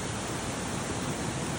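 Steady, dense rushing water roars without pause, a broad even wash of sound like a nearby waterfall.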